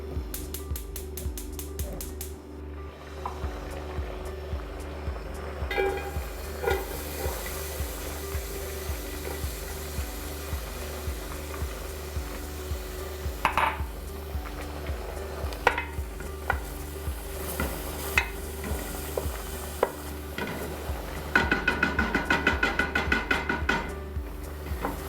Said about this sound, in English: we're going to add about a tablespoon of good Italian olive oil into our pot. We're going to let that heat up, and then we're going to add in about 1/2 of a chopped onion